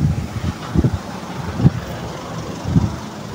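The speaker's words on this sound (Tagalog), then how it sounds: "Malakas ang hangin oh." Strong wind buffets the microphone in a steady low roar on a roadside without rain in Lopez, Quezon Province, with gusty thumps rising and falling every second or so.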